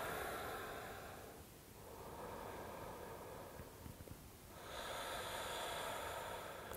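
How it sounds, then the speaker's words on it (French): Slow, soft breathing during a hatha yoga pose, a long faint exhale, a pause, then another drawn breath, close and quiet with no talking. "Et je respire."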